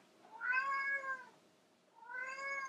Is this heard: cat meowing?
yes